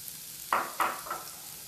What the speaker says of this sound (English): I'm going to start out by browning my mushrooms with some shallots and a little bit of olive oil